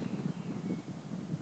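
Wind blowing outdoors in spring across a phone microphone, a steady low rumbling buffet with gentle gusting pulses, fairly quiet and without speech.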